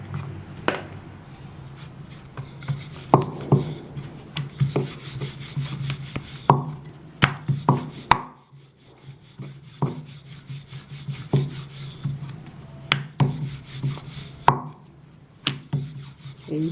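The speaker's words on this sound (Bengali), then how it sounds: "এবার আমি বেলে নিচ্ছি।" A rolling pin works dal paratha dough on a board, making repeated close rubbing rolls broken by sharp wooden knocks and taps, with brief quiet gaps and no talking.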